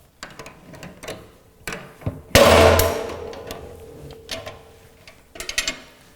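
A ratchet strap is cranked tight on a forklift drum rotator, with irregular metallic clicks and ratchet strokes, one louder burst in the middle, played alone.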